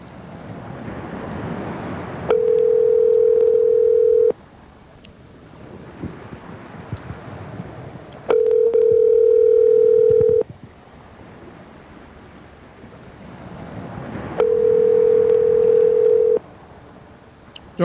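A telephone dial tone sounds three times, each a steady, loud hum lasting about two seconds, separated by quieter stretches of line noise and faint clicks as dialing is attempted.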